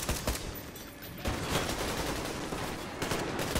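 Dense, sustained gunfire from an enemy in the video game Metro Exodus, rapid overlapping shots rattling on continuously at a steady, fairly loud level with a brief dip midway.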